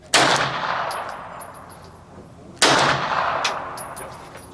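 Two sharp gunshots at a shooting range, a couple of seconds apart, each loud and close with a long echoing tail and faint metallic pings afterward.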